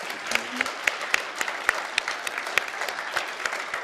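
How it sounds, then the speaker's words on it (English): Audience at a school Holocaust memorial program applauding: dense, steady clapping from a large crowd indoors, continuous throughout with sharp individual claps standing out, no voices over it. "if you could join me in another round of applause for him"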